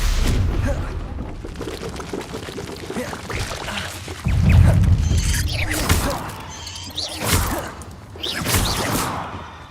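Explosive Confringo spell blasts from Hogwarts Legacy, a series of loud booming bursts with crackling debris, the heaviest near the middle, mixed with game effects and no talk.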